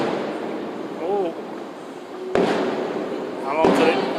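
Two distant fireworks bursts boom a second or so apart during the 2019 Wawa Welcome America display, each a sharp crack with a fading rumble, over steady crowd murmur with voices nearby.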